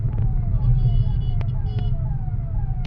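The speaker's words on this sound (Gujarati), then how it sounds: "તો એમ્બ્યુલન્સ જાય." An ambulance siren wails through traffic on an Uttarakhand road, its rising and falling tones sweeping over a steady low engine rumble, with a couple of sharp horn-like blips cutting through.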